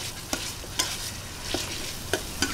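Chicken sautés in a pan for creamy macaroni sopas with a soft, steady sizzle, broken by about five sharp spatula scrapes and stirs at uneven intervals.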